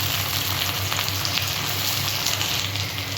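Chopped tomato hisses and crackles in hot oil in a pan for a jackfruit curry, koi enchor dalna. A dense, steady, loud sizzle holds throughout with no pauses.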